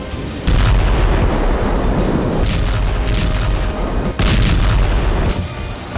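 MLRS rocket and bomber strikes in Avdiivka: loud, heavy rumbling blasts that merge into a continuous roar, surging sharply near the start and again partway through, with no voices.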